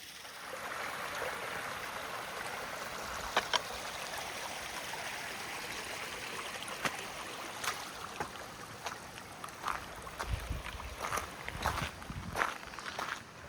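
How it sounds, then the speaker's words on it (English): A sheet of water runs down a hillside on a mountain trail near Mt Howitt, a steady broad wash that continues throughout, with footsteps crunching closer over it. "That's just a sheet of water coming out down the side of the hill there."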